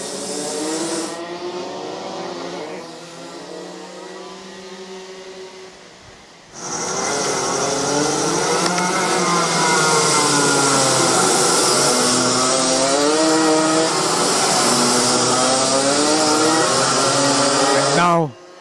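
Rotax Max racing karts on a damp track in drizzle buzz high and loud as they pass close by, engines revving and warbling, with a commentator talking over them.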